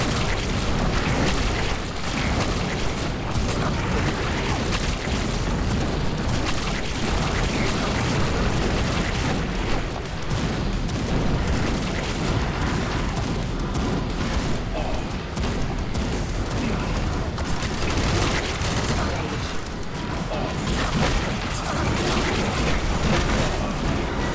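Rocket explosions in the video game Age of Hell, heard as dense, continuous booming blasts that overlap one another at steady loudness through the whole stretch, with occasional faint voices beneath.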